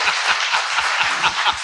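A crowd at a political talk applauds steadily and fairly loudly, a dense wash of many hands clapping with no voice over it.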